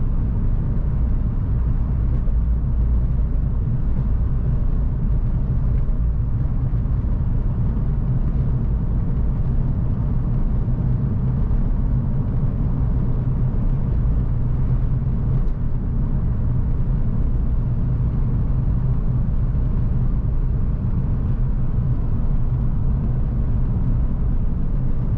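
A 1989 Ford Mustang cruising in fifth gear, its engine a steady, low, droning rumble heard from inside the car, unchanging in pitch throughout with no speech.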